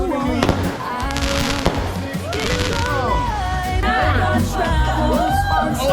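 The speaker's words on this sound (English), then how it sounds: "Fireworks for the week." Fireworks burst in a rapid run of crackling pops and bangs, loud and close, with people chatting underneath throughout.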